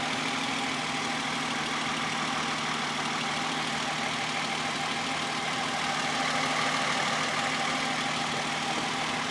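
A 2010 Toyota Avalon Limited's V6 idles steadily after start-up, a smooth, continuous engine hum at even volume with no voices.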